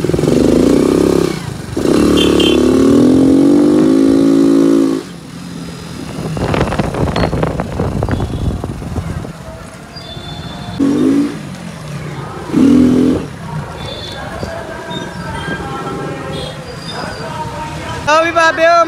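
A Splendor motorcycle runs and revs at a big rural fair in Punjab. The engine is loud and close, its pitch rising and falling in bursts, while people talk over it.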